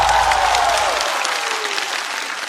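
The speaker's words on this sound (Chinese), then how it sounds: "再次掌声送给孙熙。" A loud burst of stand-up comedy show audience applause and clapping, continuous and dense, easing slightly as it goes on.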